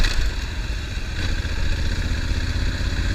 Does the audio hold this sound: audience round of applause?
no